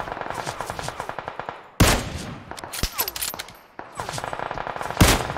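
Automatic gunfire in PUBG Mobile: rapid, loud bursts of close shots in quick rhythmic strings, broken by a few heavier single cracks, running almost continuously with faint voices underneath.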